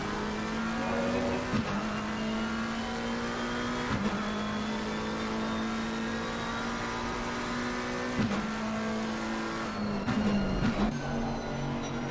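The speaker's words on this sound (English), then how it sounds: "the hard braking now on this chicane" A race car in Assetto Corsa Competizione brakes hard into a chicane, its steady engine drone broken by abrupt downshift blips and revs, moderately loud with no talk over it.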